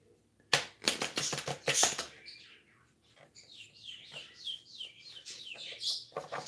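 Pet birds squawking and chattering at each other in a home, harsh bursts of calls coming in a loud rapid cluster, then a quieter run of squeaky chirps that picks up again near the end.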